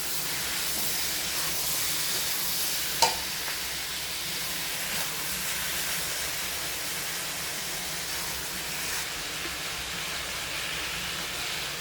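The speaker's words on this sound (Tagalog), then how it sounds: "Sasangkot siyang mabuti, papakuluan muna siya hanggang sa mag-color brown ang chicken." Chicken pieces sautéing in a pan for Filipino tinola, a steady, close sizzling hiss that runs the whole time with one brief clink near the start and no talking.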